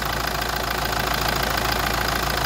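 A 2008 Kia Carnival with the J3 CRDi diesel engine idles steadily after fuel line bleeding, a loud close clatter with an even, rapid knocking rhythm and no talk.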